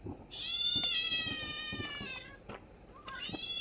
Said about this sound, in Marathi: मित्रांनो, मांजरीचा आवाज येतोय